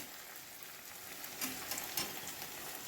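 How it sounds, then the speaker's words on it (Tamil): Spice powders of turmeric, chilli, coriander and cumin sautéing with onion and tomato in a pan for okra tamarind curry, giving a steady soft sizzle with a few brief louder crackles and stirring scrapes, with no voices. "பொடிகளை போட்டு 1 நிமிஷம் வதக்கிட்ட பிறகு"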